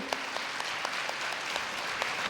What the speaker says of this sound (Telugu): జీవించే వాళ్ళంతా ఒక్కసారి గట్టిగా చప్పట్లు కొట్టండి